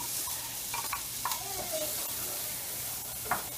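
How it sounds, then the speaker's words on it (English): Onions and garlic frying in a pan on the stove for a pasta veggie sauce, a soft steady sizzle with a few light stirring scrapes, fairly quiet and close. "I'm just going to cook this for a minute or two to let the onions soften up just a little bit."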